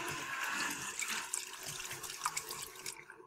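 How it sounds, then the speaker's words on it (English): Water sloshing and swirling inside a small glass Pet Tornado jar toy, a steady close watery churn with bubbly gurgles that cuts off abruptly at the end. "I'm trying to make a tornado in my little glass jar that says Pet Tornado"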